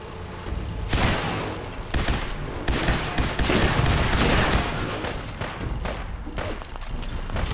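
Rapid bursts of automatic gunfire from Rust Devil raiders in Fallout 4, loud and near, firing in dense overlapping volleys with short pauses between bursts.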